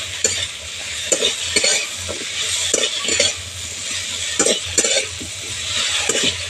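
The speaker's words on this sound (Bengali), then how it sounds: "আলুর সঙ্গে মশলাটা ভালো করে কষিয়ে নেব" Chopped potatoes fry with spices in a pan under a steady sizzle. A utensil stirs them, scraping and clinking in repeated strokes, close up and without speech.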